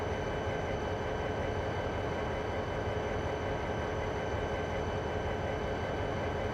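A train in the railroad video game Snow Runs gives off a constant, loud, even rumble with a faint high whine on top, steady and unbroken from start to finish with no voices.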